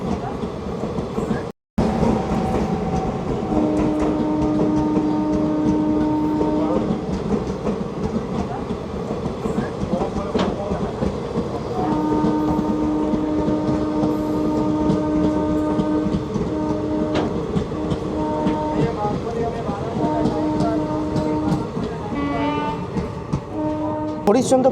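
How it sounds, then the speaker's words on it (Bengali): The Teesta Torsa Express, running from New Jalpaiguri to Kolkata, pulls away from Harishchandrapur station, with a steady close rolling rumble and clickety-clack of wheels and repeated long horn blasts. Faint voices are audible underneath. "হরিশ্চন্দ্রপুর থেকে আমাদের ট্রেন ছেড়ে দিল"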